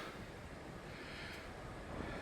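Strong wind buffets the microphone on a hiking trail, a steady broadband roar that stays fairly even and is faint overall, with no voices.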